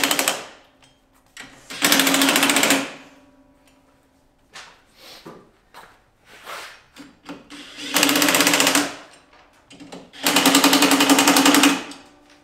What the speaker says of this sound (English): a drill to tighten these up.